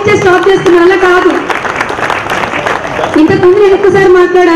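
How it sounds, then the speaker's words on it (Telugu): Audience applause at the SKAB Automobiles showroom opening: a dense burst of clapping from a crowd swells for a couple of seconds, set between stretches of someone talking loudly over a microphone. "So can you please give big claps to both."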